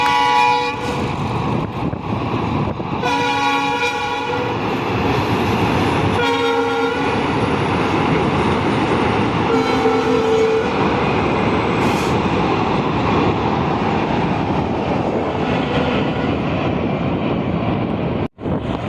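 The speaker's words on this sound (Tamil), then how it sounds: "இப்போ வந்து ட்ரெயின் நம்மளை கடந்து போது அந்த ஒரு காணொலியை பாருங்கள்" A train rumbles past close by on the new Pamban Bridge during an inspection run at about 80 km/h, a loud continuous roar of wheels and carriages with a horn sounding in bursts near the start, no talking.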